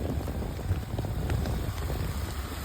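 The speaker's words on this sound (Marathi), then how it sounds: "पाण्याचे थेंब पडत आहेत" Steady monsoon rain in Pune pattering down as a dense wash of falling drops, continuous and fairly close with no voices.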